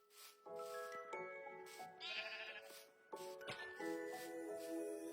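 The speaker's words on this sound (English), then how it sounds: "Sheep! More sheep!" Several sheep in Minecraft bleat in a string of wavering, nasal calls, some overlapping, fairly close and loud against a quiet background with no talking.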